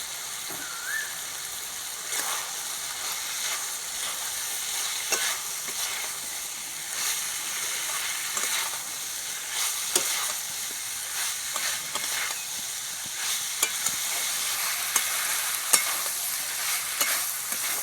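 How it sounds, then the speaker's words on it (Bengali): Boiled figs and fried potato pieces with spices, steadily sizzling in a pan while a spoon stirs and scrapes through the mixture; occasional light utensil taps over a constant frying hiss. "এবার ভালো করে আবারও কষিয়ে নেব"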